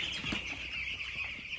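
Chickens in a large poultry farm shed, a dense steady chorus of clucking and calling with brief wing flaps, heard from within the flock.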